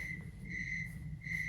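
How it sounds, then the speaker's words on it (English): Crickets chirp loudly outdoors on a summer night near a pumpkin display, in a steady high trill that pauses briefly twice and carries no talking. "And those crickets are real."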